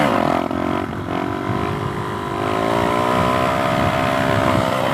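A Suzuki DRZ 470 dirt bike with a Lectron carburetor pulls hard in second gear after a clutch-up, its engine note rising loud and steady with a rough, buzzing drone close by.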